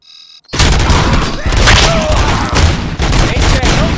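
Heavy sustained gunfire in the RoboCop: Rogue City video game, a loud dense fusillade of rapid shots and booming impacts that bursts in abruptly and continues without letup, with shouted voices mixed in.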